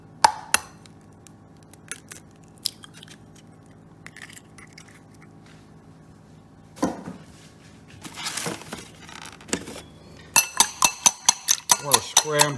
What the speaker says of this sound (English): I want to scramble these thoroughly.